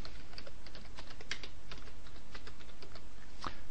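Steady clicking of keys as text is typed on a computer keyboard, a quick irregular run of close taps with a few sharper strikes, alone without talk.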